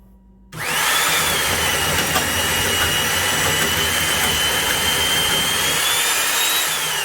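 A power drill driving an Eradicator Professional self-feed bit into wood: the motor kicks on abruptly and holds a loud, steady high-pitched whine with grinding cutting noise for several seconds, no talking.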